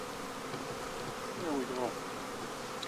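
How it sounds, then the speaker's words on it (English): Honey bees being shaken into a hive during winter preparation, giving a steady, moderately faint buzzing drone with a slight swell midway and a short remark from a person. "So I'm going to shake these other bees into this hive."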